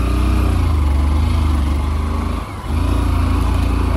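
A scooter engine labours uphill on a snowy high-altitude trail near Bhairav Kunda lake in Nepal, a close, steady high-revving drone that dips briefly before climbing back to full strain.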